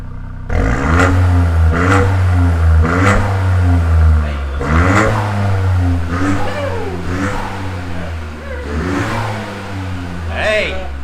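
A 2020 Ford Fiesta ST MK8 with upgraded intake revs repeatedly, each throttle blip rising and falling in a loud, close engine note, with someone talking over parts of it.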